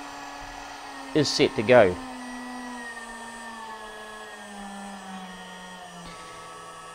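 A CNC spindle runs at up to 24,000 RPM as a steady, close electric whine that drifts slowly lower in pitch, with a short burst of talk near the start.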